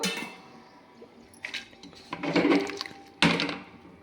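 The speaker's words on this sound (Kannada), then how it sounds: "ಇವಾಗ ಇದು ಮುಳುಗೋವಷ್ಟು ನೀರು ಹಾಕ್ಕೊಳ್ಳೋಣ." Water is poured in bursts into a pressure cooker pot holding field beans, tomato and potato, with short splashing gushes and a metallic clink, close and fairly quiet.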